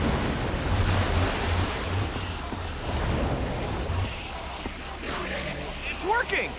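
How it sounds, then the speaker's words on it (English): Water gushes out of a machine in Minecraft Story Mode, a loud continuous rushing roar that fills the whole stretch, with voices briefly audible near the end. "I don't know how much water this thing is gonna kick out"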